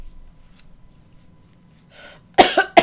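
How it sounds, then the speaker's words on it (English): After near silence, one loud, abrupt cough bursts out close to the microphone, a harsh double hack at the very end. "That was a cough, not a laugh."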